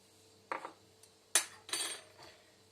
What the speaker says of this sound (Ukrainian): І все це гарненько розмішую.